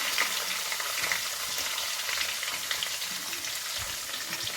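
Garlic and chilies frying in a cumin tempering (vaghar) with asafoetida, a steady, close, dense sizzle with light crackle running throughout at even loudness.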